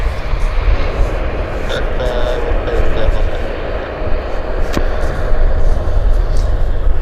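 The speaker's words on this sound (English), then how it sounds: "that Airbus, that was awesome" An Airbus airliner at Vancouver airport rumbles past with a loud, sustained engine roar, while people talk over it throughout.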